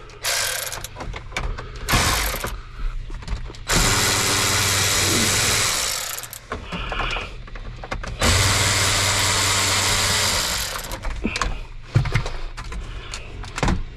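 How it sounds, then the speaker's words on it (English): A ratchet removes 7 mm cup holder screws inside a 2011–2016 Ford F250, with two long bursts of rapid close clicking separated by shorter ratcheting and handling noises, over a low idling hum. "I'm going to remove 2 screws here"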